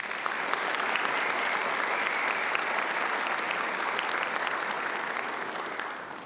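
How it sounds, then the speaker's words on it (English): An audience at a graduating seniors' Ivy Day ceremony claps steadily in a dense, even wash of applause that holds for several seconds, then begins to thin slightly at the end. "Please join me in a round of applause for her talents and time."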